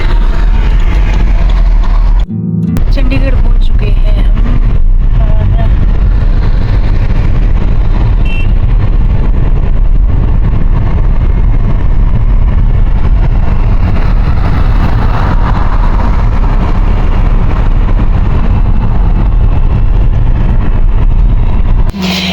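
Road traffic around Chandigarh: a constant loud wash of car and truck engines and tyre roar heard from inside a moving vehicle, with a brief pause early on and a short spoken line under the noise.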